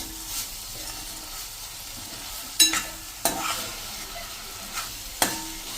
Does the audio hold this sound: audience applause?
no